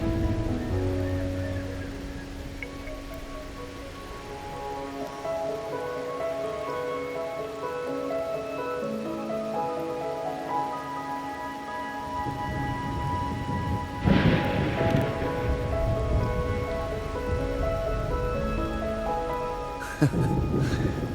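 Steady rain falls in the Wuthering Waves video game, a soft wash of hiss that thickens into a heavier downpour partway through, under sustained background music with a few sharper hits near the end.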